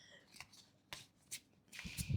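Tarot cards being shuffled by hand in a few crisp riffling bursts with pauses between them, ending in a longer rustle, quiet and close.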